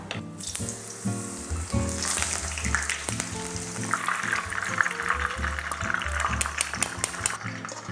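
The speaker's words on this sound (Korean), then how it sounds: "자, 이제 마지막 남은 주키니 튀기겠습니다." Zucchini deep-frying in hot oil gives a loud, steady sizzle and crackle that runs throughout, with occasional faint clinks of kitchen utensils.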